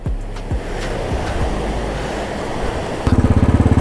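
Rushing water from a waterfall and river in Nuwakot, Nepal, a steady broadband roar throughout with a pulsing low rumble joining near the end.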